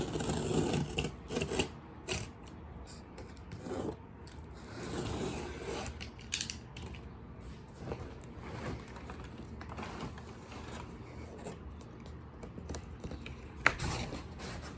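A blade cuts open a cardboard package box holding a Gucci t-shirt, with scraping, rubbing and tearing sounds and intermittent sharp snips and rustles, close and fairly quiet, no talking.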